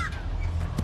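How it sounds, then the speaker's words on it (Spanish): Crows caw in the Hello Neighbor game, a couple of short harsh calls over a murky low ambient drone, with a soft voice briefly present. "Ay, que es un pájaro, ¿no? Cuervos."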